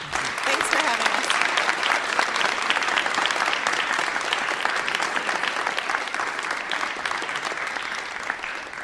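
A studio audience at a philosophy panel program applauds in a sustained, dense wash of clapping, steady and fairly close throughout.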